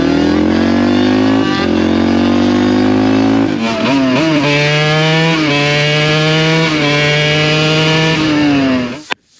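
A 2001 Suzuki RM125 two-stroke dirt bike engine idles with a loud, buzzy drone, then revs up in rising and falling bursts before cutting off abruptly at the end.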